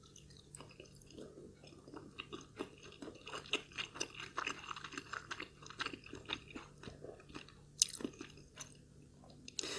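Someone eating spicy pork dumplings with chili, close, quiet chewing with soft wet squishes and occasional crunchy bites in an irregular rhythm, with no talking.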